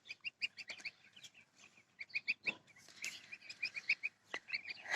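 Goslings peep in quick, high-pitched bursts, with a gander's occasional call among them, soft and nearby, in a village yard.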